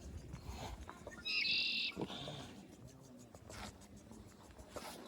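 A single loud, buzzy red-winged blackbird call bursts out over a rustling outdoor background at Smith Rock near Bend, Oregon, followed by fainter chirps.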